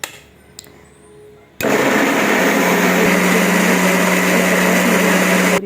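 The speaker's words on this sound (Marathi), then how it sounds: "टोमॅटो आणि कांद्याची आता प्युरी करून घेते आहे" Mixer grinder whirring loudly as it purees tomato and onion, kicking in abruptly after a quiet moment and running as a steady, high-pitched electric drone to the end.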